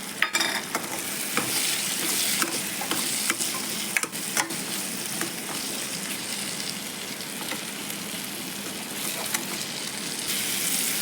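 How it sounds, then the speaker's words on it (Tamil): Continuous close sizzle and frying of turkey berries and tomatoes sautéing in oil, with scattered ticks and scrapes of stirring throughout and no voices. "சுண்டைக்காவை நல்லா வதக்கிட்டிங்கனாவே அந்த வத்த குழம்பு வாசம் வந்துடும்"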